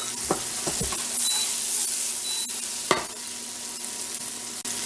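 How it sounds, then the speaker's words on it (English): Peas, peppers and onion sizzle in a pan with a steady, close frying hiss, broken by a few sharp clinks and scrapes of stirring. "In with our peppers and onion."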